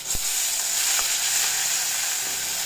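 Chopped tomatoes drop into a hot oil tempering with curry leaves, giving a steady, close sizzle and frying hiss with a couple of soft stirring knocks, no voices.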